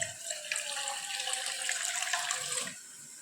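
Water runs in a steady stream for a few seconds, close by, then stops abruptly near the end.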